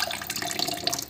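Tap water runs steadily while a boiler filter screen from a Viessmann boiler is rinsed under the stream, a close, continuous splashing flow with no voices.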